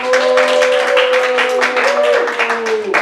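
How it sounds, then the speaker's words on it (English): Applause and clapping from a comedy club audience welcoming performers onto the stage for an improv game, dense and steady throughout, with a sustained tonal hum or music running underneath. "Give us a round of applause."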